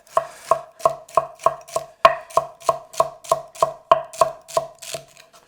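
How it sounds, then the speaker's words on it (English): A knife chops celery on a cutting board in a quick, even rhythm of about sixteen crisp, close strikes, with nothing else around them. "We'll cut the celery."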